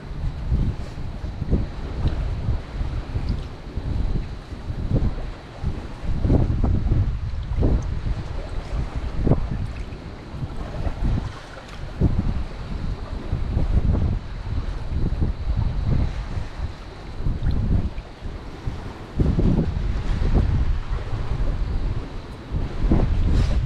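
Strong wind buffets the microphone in steady roaring gusts on a cloudy day, with water sloshing against a boat underneath.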